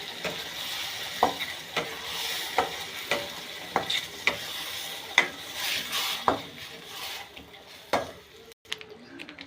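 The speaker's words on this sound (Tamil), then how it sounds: "நல்லா கலந்து" Egg gravy of ground masala paste, chili powder and salt is stirred in a sizzling pan, a steady soft fry broken by regular sharp scrapes and clinks of a spoon against the metal pan, close up with no voices.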